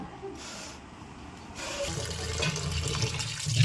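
Cut bitter gourd and potato pieces are rinsed under running water, starting as quieter splashing and turning into a stronger, steady stream of water over the last half.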